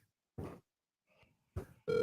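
A telephone rings in short bursts, with a steady tone sounding near the end, close and fairly quiet, with no talking.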